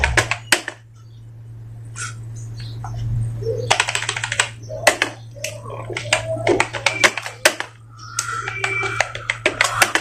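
Keys on a computer keyboard clatter in quick irregular bursts during Hindi Mangal typing practice, close and crisp, with a steady low hum underneath.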